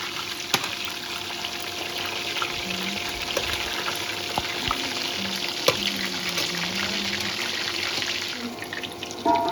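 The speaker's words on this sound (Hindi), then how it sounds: "इनको हम पलटेंगे दूसरे साइड और दूसरी साइड भी इनको हम अच्छे से फ्राई कर लेंगे।" Eggplant slices fry in oil with a steady, broad sizzle and occasional pops and clicks as they are turned, holding at a moderate level throughout.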